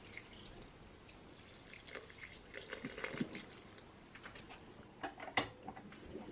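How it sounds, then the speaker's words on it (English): Soft dripping and trickling water poured into a mixer bowl over bread dough ingredients, quiet and close, with a few small splashes and a brief clink near the end. "Now add the water for the final dough."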